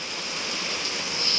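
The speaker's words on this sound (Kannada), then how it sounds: "ಜೋರಾಗಿ ಮಳೆ ಬರ್ತಾ ಉಂಟು" Heavy rain falling outdoors, a dense, steady hiss with no breaks or voices.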